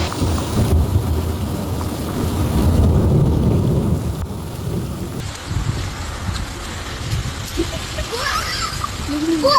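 Hailstorm with thunder and extreme winds over Río Tercero, Argentina: a continuous loud roar of wind and pounding precipitation with low rumbling throughout, easing slightly in the second half.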